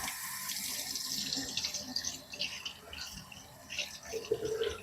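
Water runs from a tap into a sink while a glass is washed, a steady splashing stream with small clinks and shifts as the glass moves under it, close and moderately loud.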